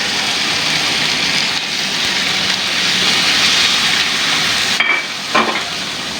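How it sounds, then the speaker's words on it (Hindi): Chicken fries in a pan with softened onions, a loud, close, steady sizzle with occasional scraping stir sounds near the end and no speech. "अब इसमें चिकन ऐड कर दूँगी इसी में मैं।"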